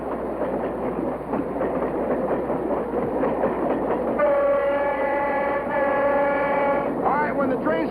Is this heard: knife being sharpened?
no